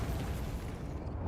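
The Bombarda explosive spell in Hogwarts Legacy lands as a loud, dense, roaring blast that fills the short moment with a broad rumble before starting to fade at the end.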